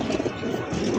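Maxi racer pigeon cooing in a low, continuous murmur that fills the short stretch at steady loudness, close by.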